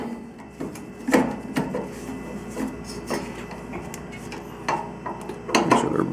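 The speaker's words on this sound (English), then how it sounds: "There's my second 5/16 nut driver. Make sure they're both" Small metal clicks and scrapes of a 5/16 nut driver tightening nuts on a furnace's burner assembly, close up and intermittent, with a few sharper taps over a steady low hum.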